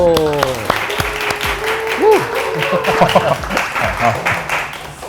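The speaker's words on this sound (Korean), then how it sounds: "제가 소개받은 역사상 가장 큰 박수지 그렇죠" Studio audience applause welcoming a guest introduced on a Korean finance talk show, a steady dense clapping wash lasting several seconds with voices and background music threaded through.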